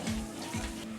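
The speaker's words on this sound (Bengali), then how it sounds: "সব কিছু ভালোভাবে মিশিয়ে নেব" Spices, including coriander, red chilli and turmeric powders, stirred together in hot oil for Bengali aloo dum, giving a brief steady sizzle with soft scraping.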